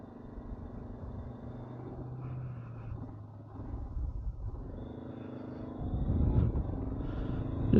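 A 2022 Honda CB500X motorcycle rides back roads in chilly southeastern Kentucky, its engine a steady low drone with road and wind noise that swells slightly near the end.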